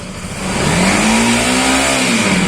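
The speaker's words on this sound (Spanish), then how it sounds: "Si acelero me debería aumentar la intensidad de la luz." A Bajaj Pulsar NS200 motorcycle engine revs up from idle, its pitch climbing and holding at a loud steady whine before easing slightly, close and alone.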